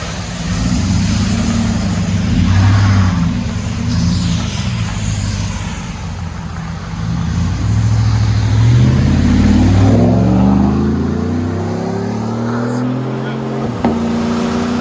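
A lifted Chevy Silverado pickup with a 5.3 liter V8 and an aftermarket exhaust revs hard, throaty low rumbles swelling and falling in several loud bursts before settling to a deep idle.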